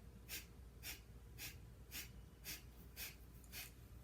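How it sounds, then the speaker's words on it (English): Seven short, sharp nasal exhales of Kapalabhati breathing in a steady, quick rhythm, close and clear, with faint background hiss between them. "sharp exhales all through the nose."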